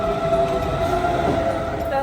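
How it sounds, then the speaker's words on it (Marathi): Heard from inside a moving train in Germany, a steady rumbling interior drone with a faint high whine runs evenly throughout, with no talk. "तर आता आम्ही ट्रेनमध्ये बसलेलो आहोत"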